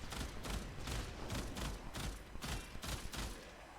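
Burston Prime burst rifle firing in Warframe, loud rapid bursts of shots repeating steadily with short gaps between them, dense and continuous with no talking.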